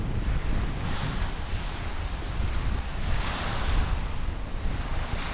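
Steady rushing surf as waves wash onto a snowy seashore in winter frost, with wind buffeting the microphone throughout and the roar swelling and easing.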